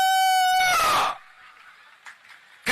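A man imitates a rooster crowing: one loud, drawn-out crow that fades into quiet room noise, ending with a brief burst of sound.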